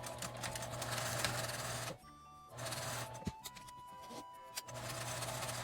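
A sewing machine stitches the fabric of a zipper pouch, starting 1.5 cm from the edge near the zipper stop, running in steady close bursts that stop briefly twice, with small clicks of handling in the gaps.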